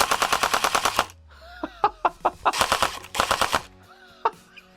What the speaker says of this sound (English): if you want to fire it in dry fire mode, you pull that 3 times, and now that should program it to work